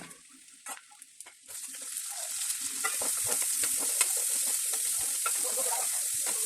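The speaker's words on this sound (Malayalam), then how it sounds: "ചെറുതായി അരിഞ്ഞു വെച്ചിരിക്കുന്ന സവാള ചേർത്ത് വഴറ്റുക" Chopped onion sautéing in hot coconut oil for a chicken curry: a steady close sizzle builds after a quiet start, with repeated scraping and clacking from stirring throughout, and no voices.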